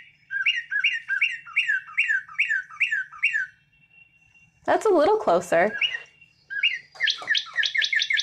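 Recorded bird calls played back for song identification: bursts of repeated squawky chirps in rapid series, a harsher clustered call in the middle, then more chirp sequences, with a person briefly talking.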